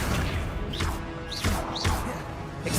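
Repeated Accio summoning spells in Hogwarts Legacy give a steady rumbling bed broken by several bright swooshing zips and soft impact thuds, evenly spaced and close.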